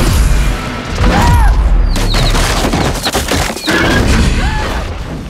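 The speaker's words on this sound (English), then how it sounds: "there's the smashing" Objects smashing during a stunt scene, loud crashes and impacts in quick rough bursts with clattering debris and a brief pause before more crunching, no talk.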